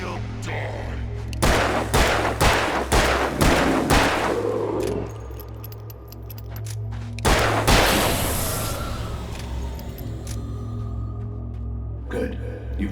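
Gunshots in the Alan Wake video game ring out as a handful of spaced, heavy blasts, then a louder cluster, over a low droning game ambience.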